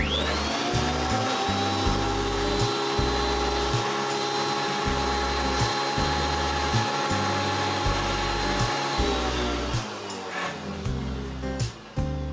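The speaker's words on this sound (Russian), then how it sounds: "После настройки провожу тестовый запуск инструмента." A Belmash P1800 thickness planer runs through a test start after adjustment, giving a loud, steady motor whine with a rhythmic low-end pulsing throughout, then winding down near the end.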